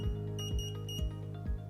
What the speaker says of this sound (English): It has to stay up for a couple seconds, and then you get an alarm.